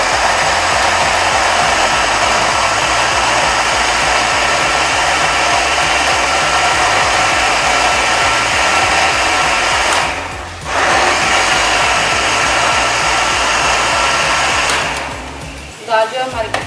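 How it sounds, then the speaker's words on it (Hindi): An electric kitchen grinder blends cooked lentils for chicken haleem, with a loud, steady high-speed motor whir that dips briefly midway, then winds down and stops with a few rattles at the end. "अब तो जो ये ग्राइंडर को ऑन करते हैं।"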